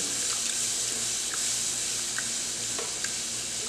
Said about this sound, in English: So we're going to add the milk to this. Keep stirring constantly